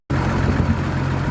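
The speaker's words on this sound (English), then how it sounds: "The engine certainly runs sweet, doesn't it? I mean, listen to it." A Model C project car engine idles close by, a steady low rumble that starts abruptly and holds even and unbroken for about a second.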